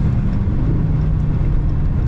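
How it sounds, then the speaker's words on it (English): A Dodge 392 V8 heard from inside the car in traffic, a loud, constant low engine drone with no distinct rev changes, close and steady throughout. "Damn, the downshifts though"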